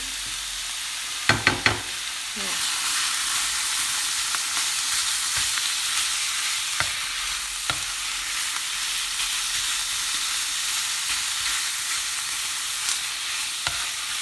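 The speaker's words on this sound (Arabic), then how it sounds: "البصيلات ديالنا هما كيتعسلوا" Onions fry and caramelize in a pan with a continuous dense sizzle, broken by a few sharp clicks of a spoon stirring against the pan, all close and without talk.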